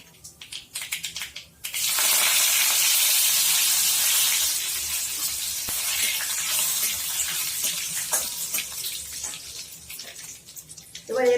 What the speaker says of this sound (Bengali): অল্প একটু সর্ষে আর জিরে ফোড়ন দেবো।